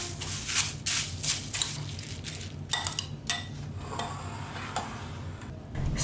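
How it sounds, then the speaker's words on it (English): Corn flakes stirred with a spoon into melted butter in a bowl for a cheesy potato casserole topping give a steady crinkly crunching with light scrapes and clinks against the bowl, close up, with no talking. "Add the corn flakes to the bowl and stir it up until the corn flakes are coated in butter"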